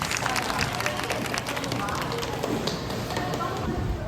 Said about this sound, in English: Everyone, give a big round of applause for Alden Santos.